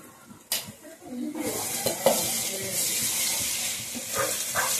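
Beef liver frying in a pan with turmeric added, a bright steady sizzle and scraping stir sounds up close, with a voice speaking quietly alongside.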